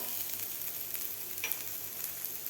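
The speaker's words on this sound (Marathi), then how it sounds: "कांदासुद्धा आपला थोडासा सोनेरी कलरवर भाजलेला आहे तर आता यामध्येच आपल्याला घालायचं आहे आता लसूण आलं" Ginger, garlic and onion fry in a pan for sprouted moth bean curry, making a soft, steady sizzle with a few light stirring scrapes at close range.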